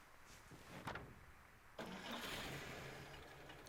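A car engine cranks and starts in the noir horror game White Night, then runs steadily as the car drives off, a fairly loud, continuous mid-range hum after a few brief clunks.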